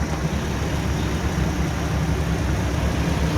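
A steady, continuous engine drone with a low rumble from a Ford Granada 2.8, idling evenly without revving.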